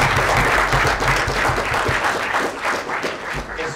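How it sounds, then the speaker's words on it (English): A lecture audience at a mental maths talk breaks into a big round of applause, dense steady clapping filling the room throughout at a strong, even level. "can we have a big round of applause for everything asked?"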